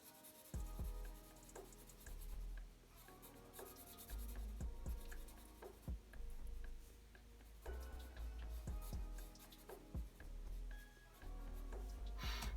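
Pencil drawing and colouring anime eyes on paper: quiet, close scratchy strokes and rubbing, with bursts of rapid back-and-forth shading and small taps between them, faint throughout with no talking.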